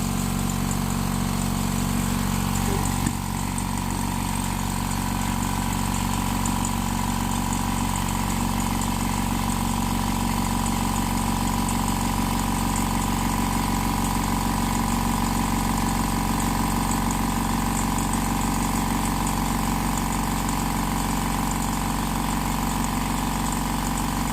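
An air compressor motor runs steadily and loudly on a repair bench, holding an even drone the whole time, with a brief change in tone near the start.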